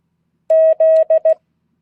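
Morse code letter Z sent as clean electronic tones: two long dashes then two short dots, loud and isolated against silence.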